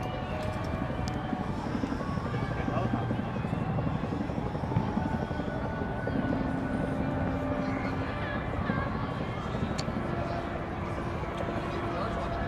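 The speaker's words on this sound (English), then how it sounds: "Hey, helicopter!" A helicopter's rotor thumps rhythmically overhead at a Seattle July 4 fireworks event, loud and steady throughout, with a crowd talking and murmuring underneath.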